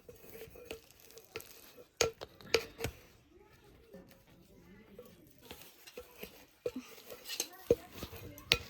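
Sesame and oil mixture being stirred in a pan, a soft sizzle with scattered scraping knocks of a spoon against the pan, while someone talks throughout.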